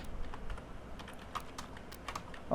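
Keys clack on a computer keyboard in an uneven run of light taps, with a slightly firmer keystroke at the end, close and fairly quiet.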